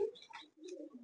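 Big Malwai pigeon cooing close by, a few soft low throaty coos with brief chirpy bits around them, fairly quiet.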